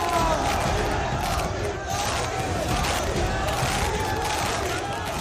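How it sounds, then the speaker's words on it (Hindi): Large dense crowd roaring and chanting at Yogi Adityanath's rally in Hyderabad, a loud continuous wall of voices with no break. "भीड़ इतनी ज्यादा है कि प्रशासन को कंट्रोल करने में पसीने छूट गए"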